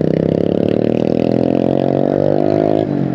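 A motorcycle fitted with a loud aftermarket exhaust passes close on a road, its engine a steady, raspy, rising drone that stays loud for about three seconds.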